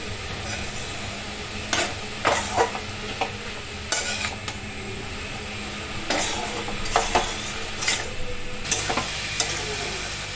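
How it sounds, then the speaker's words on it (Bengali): A sandwich filling seasoned with salt and black pepper is stirred in a pan, the spoon scraping the metal in irregular strokes over a steady low sizzle, with no voices. "নেড়ে চেড়ে নিলাম।"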